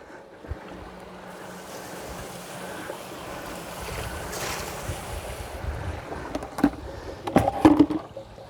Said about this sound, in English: Flushing it through.